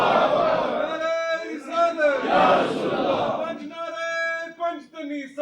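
A crowd at an annual religious conference chants a slogan in loud, rhythmic unison, several rising calls and responses close by that fade out near the end.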